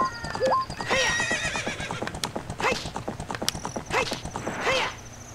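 A horse whinnies several times over clip-clopping hooves, with mechanical creaks and clanks in the background, as game sound effects in The Legend of Zelda: Ocarina of Time.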